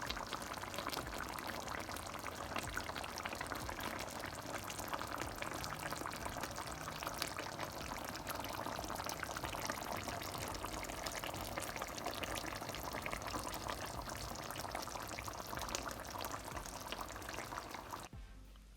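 Jamaican brown stew chicken, made without browning, simmers in a pot with a soft, steady bubbling hiss that stays faint and even throughout, with no one talking.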